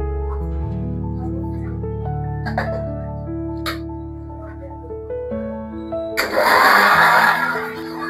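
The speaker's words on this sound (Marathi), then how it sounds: "आता आपण मगाशी जे टमाटा आणि बेडगी मिरची शिजवून घेतली होती त्याला एकदा मिक्सरला लावून घेऊया" After steady humming tones, a kitchen mixer grinder blending cooked tomatoes and bedgi chillies for momo chutney bursts into a loud, rough whir for a second or two near the end.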